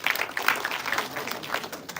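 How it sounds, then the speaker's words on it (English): An audience claps briefly at a live production event, a short burst of scattered, overlapping hand claps that thins out toward the end. "Clap for yourselves."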